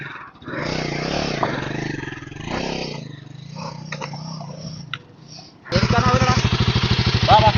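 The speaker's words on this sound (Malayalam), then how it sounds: "കൊടുക്കടാ, ത്രോട്ടിൽ ഫുള്ള് കൊടുക്കേ, ക്ലച്ച് ഒഴിവാക്കേ." A Royal Enfield Himalayan 450 motorcycle strains on an off-road climb, its engine thrumming loud and close, then surging into a hard, pulsing rev near the end while voices shout over it.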